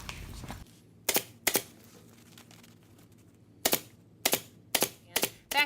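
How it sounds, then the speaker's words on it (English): A staple gun drives staples into folded upholstery fabric on the wing of an armchair, giving about seven sharp, close snaps in irregular bursts with quiet gaps between them. "and staple that down."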